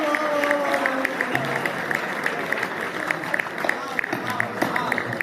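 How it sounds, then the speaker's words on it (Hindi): An audience applauds a comedy poet's satirical verse at a Hindi hasya-vyang poetry performance. The clapping is dense and continuous throughout, with a voice talking over it. "तालियां जोरदार होनी चाहिए दोस्तों"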